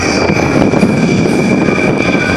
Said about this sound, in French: Le Mustang est donc un avion, un chasseur long courrier